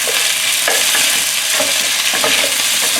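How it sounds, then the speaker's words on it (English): Loud, continuous sizzling and crackling of beef and broccoli stir-frying in a hot pan, with occasional stirring scrapes, no voices. "As long as you can hear the sizzle sound"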